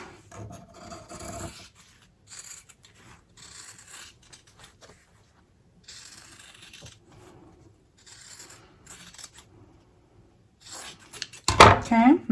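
Scissors snip around fabric kitty ears for an in-the-hoop zipper fanny pack, with short bursts of rasping cuts separated by quiet pauses and a louder, sharper run of cutting at the end.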